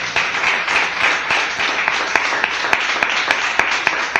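Congregation clapping in a church service, a dense continuous wash of hands that settles into sharper rhythmic claps in time toward the end, loud and close.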